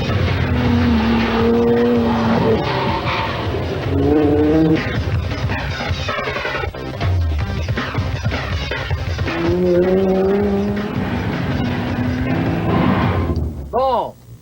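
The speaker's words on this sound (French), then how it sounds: "ceux qui écouteraient à savoir si c'est vraiment une voiture de course, je peux vous donner ma parole, c'est une voiture de course." A race car driving on a track, its engine droning and shifting pitch through repeated revs, with people talking over it throughout and the engine note sweeping at the end.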